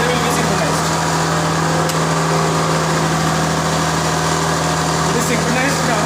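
A synchronous alternator in an electrical machine lab runs on DC supply, giving a loud, constant whirring hum with a strong steady tone and broadband machine noise throughout, unchanging and close.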